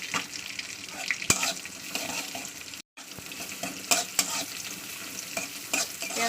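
Onions fry in a hot pan with cumin and chili, a continuous sizzle broken by sharp scrapes and clinks of a spatula against the pan, with one abrupt cut of silence midway and no voices.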